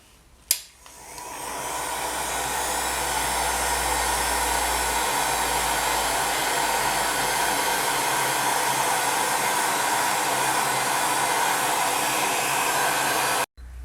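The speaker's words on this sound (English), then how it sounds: "now I'm going to bring over my heat gun and set it onto my hottest setting and my lowest wind speed, and I'm going to cure it." Heat gun on its hottest setting and lowest airflow curing liquid polymer clay for a window pendant, a steady loud blowing roar that starts abruptly after a click and runs unbroken for about thirteen seconds before cutting off.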